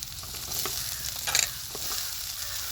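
Chopped capsicum fries in oil with onions, giving a steady, close sizzle. Spatula stirs scrape through it, with a brief louder clatter about halfway through.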